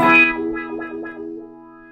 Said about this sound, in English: You get the definite wah sound.